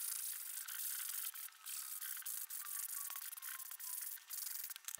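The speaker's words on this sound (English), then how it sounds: "by sanding the whole thing back, you reduce the amount of lumpy bumps on the piece" Hand sanding back a painted surface to smooth lumpy paste before stencil stamping, a close dry rubbing scratch in repeated back-and-forth strokes with brief pauses.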